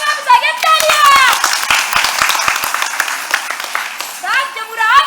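Scattered hand claps from an audience at a stage play pop out sharply among lively voices and speech, building briefly then thinning out before a final burst near the end.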